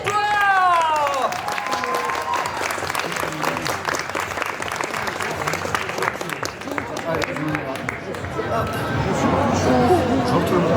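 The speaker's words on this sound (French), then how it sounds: "Est-ce qu'on peut s'il vous plaît applaudir très très très fort notre invité du jour?" A crowd at the Start To Play 2025 gaming event applauds and cheers for the guest of the day, clapping dense and sustained while chatter and excited voices mix in throughout, with a tonal musical sting at the start.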